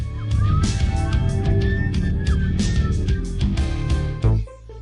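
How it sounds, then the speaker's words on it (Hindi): Police car siren sweeping up and down amid busy vehicle rumble and clattering noise in a cartoon vehicle rescue scene, loud and close, stopping near the end. "पुलिस की गाड़ी अपना सायरन सक्रिय करती है।"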